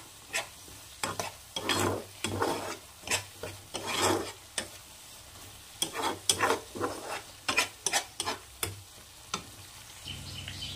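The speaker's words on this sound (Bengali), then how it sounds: "এই সব কিছু দিয়ে মশলাটাকে খুব ভালো করে কষিয়ে নিতে হবে যত সময় না মশলা থেকে তেল ছাড়ছে" Bengali spice paste with a pinch of sugar is fried in oil for jackfruit and prawn curry, a low sizzle under rhythmic spatula scraping strokes that come in bursts, close and steady, without talk.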